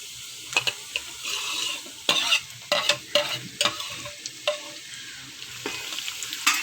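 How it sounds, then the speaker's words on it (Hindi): Minced mutton sizzles and fries in a pan while a utensil stirs and scrapes it in irregular strokes, close and moderately loud, with no talking. "बस अब मैं ये कीमा डाल रही हूँ इसमें।"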